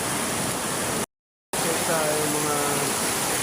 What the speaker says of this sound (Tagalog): Ayaw pa rin tumigil ng ulan.